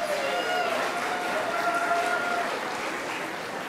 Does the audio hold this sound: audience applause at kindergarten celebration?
yes